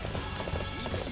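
Horse hooves clip-clop at a rapid, steady gallop in the Dynasty Warriors 8 Empires video game, close and fairly loud over constant battle ambience.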